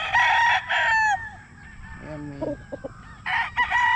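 Roosters crowing loudly and close at a chicken market, two long strained crows separated by shorter clucks, with a brief spoken remark in between.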